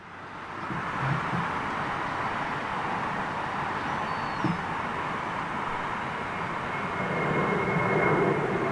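A Japan Airlines jet arrives at London Heathrow, its engines making a continuous broad roar that stays fairly steady and grows slightly louder toward the end, with no voices.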